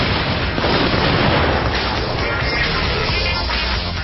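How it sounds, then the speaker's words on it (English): Fire extinguisher bursting inside an electric oven, heard as a continuous loud, distorted roaring blast of broadband noise that fills the whole clip without letting up. "when the inside becomes hot enough to fracture the container at its weakest point, the whole thing goes bang."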